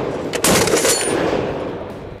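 A single loud gunshot from a Barrett M82A2 .50 BMG rifle cracks sharply, then a long booming echo rolls out and slowly fades over a couple of seconds.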